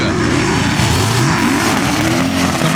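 A BMW drift car at a Formula Drift event in Atlanta revs loudly and close, its engine note rising and falling in quick sweeps over heavy continuous roar.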